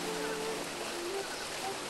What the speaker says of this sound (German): So, schauen wir uns nochmal den Wasserfall an.